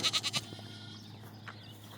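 A sheep on a New Zealand farm gives a quick wavering bleat up close, fading into low farmyard background hum with a faint later call.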